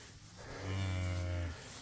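A single cow lets out one long, deep, close moo that rises and holds before tapering off, with a faint outdoor background around it.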